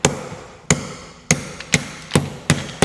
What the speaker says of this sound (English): Just going to use a ball peen hammer here to